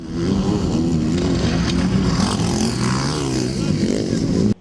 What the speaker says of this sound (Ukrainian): потужні мотоцикли, шалені швидкості та карколомні стрибки